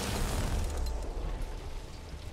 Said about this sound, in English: Okay, I'm throwing my second grenade.